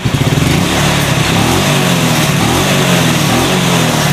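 A motorcycle that had sputtered after running out of fuel now revs smoothly and steadily, a close, loud, continuous engine drone with no talking over it.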